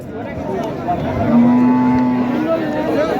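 A single long, loud moo from cattle at a large Eid cattle market in Gomgram, Dhamrai, Dhaka, close and rising in pitch, over a low murmur of market background.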